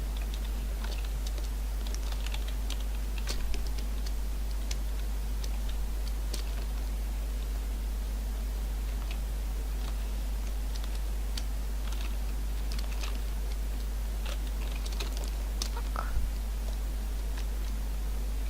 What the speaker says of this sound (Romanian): eu am o tastatură foarte fucking gălăgioasă